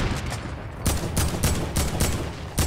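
Gunfire in Fortnite Battle Royale squads, with a rapid fusillade of loud, close shots in bursts roughly every half second over constant background game noise.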